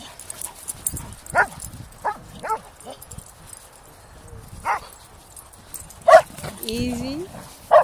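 A poodle gives several sharp barks and yips at irregular intervals, close by, amid quiet background and a few short spoken words.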